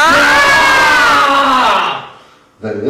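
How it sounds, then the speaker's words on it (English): A woman's loud, sustained scream of "ah" rises and slowly fades into silence, followed by the start of another vocal sound near the end, in a dramatic stage monologue. "Scream again!"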